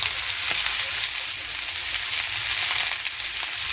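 Salt, turmeric, chili and coriander powder fry in a pan with vegetables, producing a close, continuous crackling sizzle with faint stirring scrapes and no speech.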